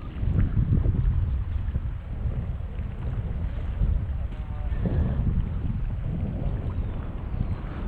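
Strong wind buffets the microphone in continuous, rumbling gusts, with a faint watery wash beneath, while fishing.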